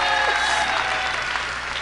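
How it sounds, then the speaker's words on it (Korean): A crowd claps steadily throughout a brief, loud burst of applause at a political talk-concert event. "박수 마음껏 치셔도 됩니다."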